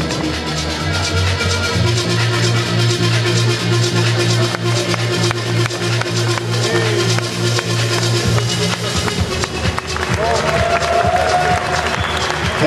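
Audience applause at a professional bodybuilding Grand Prix contest in Romania, steady clapping and crowd noise running through the posing routine with a low hum underneath and a voice calling out poses.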